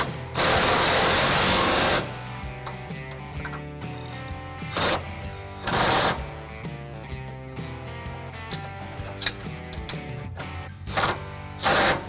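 A ratchet with a 21 mm socket on an extension tightens trailer hitch bolts on a 2018 Chevy Silverado 1500, with one long run of rapid clicking, then shorter clicking bursts between pauses.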